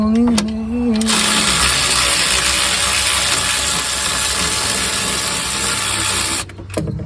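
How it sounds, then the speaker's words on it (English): A ratchet wrench works on a wheel hub bolt of a 2006 Buick Lucerne during a rear hub replacement, giving a loud, steady mechanical whirring that runs close and continuous for several seconds before stopping abruptly. "I'll try to get that one the rest of the way with this ratchet"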